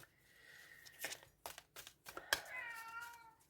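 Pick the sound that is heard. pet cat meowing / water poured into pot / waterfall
pet cat meowing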